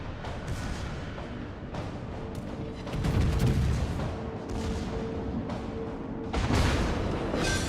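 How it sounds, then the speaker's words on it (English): Secondary guns on the French battleship Richelieu fire in a naval battle in World of Warships: repeated sharp cannon reports and rumbling booms, several loud heavy blasts layered over continuous battle noise and distant explosions. "secondaries are pew-pewing away"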